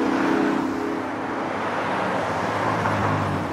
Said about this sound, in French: il y a énormément de voitures